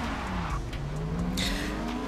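Honda S800 race car engine in the video game Forza Motorsport, a loud revving whine rising and falling through a corner, with tyre squeal and other cars nearby.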